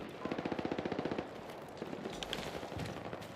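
Rapid automatic gunfire rattles in a video game battle, a quick burst of evenly spaced shots followed by scattered further bursts and distant shooting.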